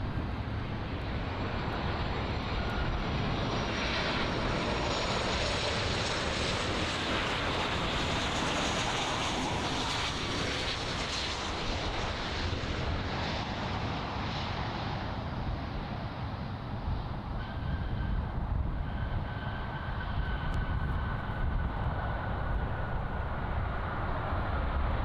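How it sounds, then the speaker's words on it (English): An American Airlines Boeing 737-800 arrives on approach at Miami International Airport, a loud, steady broadband jet roar that fills the whole stretch and slowly shifts in tone as it passes. "next on approach, as you can see, is American Airlines flight 2295. It's a Boeing 737-800"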